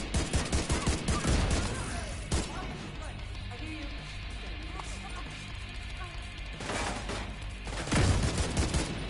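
Gunfire crackles and booms in The Division 2 during a firefight in the American History Museum: bursts of rapid shots open and close the passage, with a quieter rumbling stretch between them.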